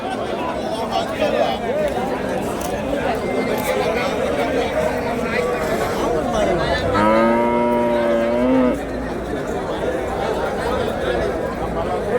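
A Jersey cow lets out one long, drawn-out moo at the Vaniyambadi livestock market, rising out of a busy background of crowd chatter and people talking nearby.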